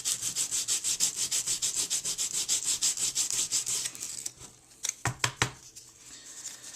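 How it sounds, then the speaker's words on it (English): Rapid, rhythmic back-and-forth rasping of hand sanding a wargaming cargo container model with a dull piece of sandpaper, about twenty quick strokes, followed by a few sharp taps and a pause. "so you don't have to sit here and watch me sanding"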